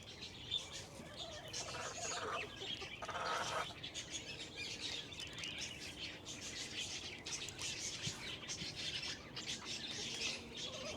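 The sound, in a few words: hens clucking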